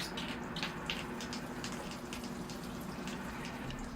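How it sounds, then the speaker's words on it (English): Water is poured onto a potted ficus bonsai, making a soft, continuous running and trickling sound that lasts about four seconds with no speech. "And I'll give the ficus a water."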